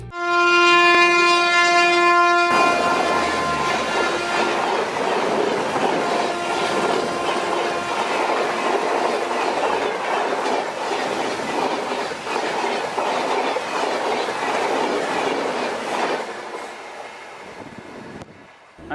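A train runs along a new railway line through the mountainous terrain of Mizoram, opening with a sustained horn blast, then a loud, steady rumble and clatter of wagons that fades toward the end.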